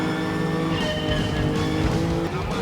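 In a racing game played on an EvoRetro GT-XP2 racing wheel, a car engine revs hard as the gas pedal is pressed, its whining tone climbing and holding loud and steady with faint tire-squeal-like texture.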